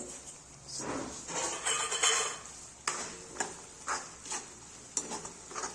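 Sesame seeds tossed into onions frying in a pan for a Gujarati bhindi (okra) dish, with soft sizzling under clinks and scrapes of a spoon stirring against the pan, several sharper metal taps standing out.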